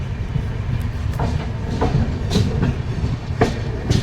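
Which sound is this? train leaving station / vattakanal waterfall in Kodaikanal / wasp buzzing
train leaving station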